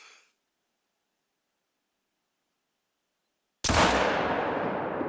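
A single loud Coachmate Lever .45-70 rifle shot in theHunter: Call of the Wild, cracking out of near silence with a sharp onset and a long rolling echo tail, preceded by a brief faint noise.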